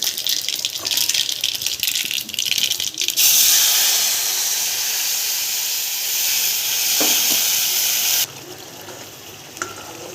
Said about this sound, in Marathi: यामध्ये तेलामध्ये मोहरी जीरे